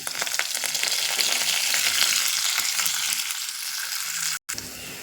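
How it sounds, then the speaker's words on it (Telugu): Steady, loud sizzling of onion, green chilli and ginger frying in hot oil, a dense crackle throughout with a brief dropout near the end. "ఉల్లిపాయ పచ్చిమిర్చి అల్లం వేసి ఇవి కూడా వేయించుకుందాం"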